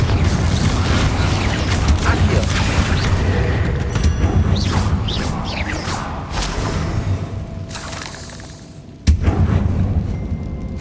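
The Confringo blasting spell in the game Hogwarts Legacy, fiery bursts and booming impacts amid constant combat clatter and whooshing effects, ending with a sudden sharp explosion near the close.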